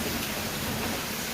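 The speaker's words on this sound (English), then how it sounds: "with the cottage doors opened and enjoying the rain" Rain falling just outside open cottage doors, a steady, dense hiss of drops that fills the air evenly, close and unbroken with no voices.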